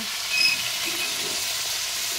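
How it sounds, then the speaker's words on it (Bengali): Fish fries in a pan with a steady, fairly soft sizzle that continues evenly and close by, with no voices. "মাছ ভাজতেছেন?"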